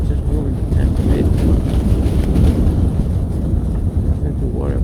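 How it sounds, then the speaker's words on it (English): Strong wind gusts buffet a tent at a -40ºC snow camp in Arctic Norway, a steady, loud, rushing roar with blustery surges that fills the whole stretch. "the wind has been hammering the tent in and out"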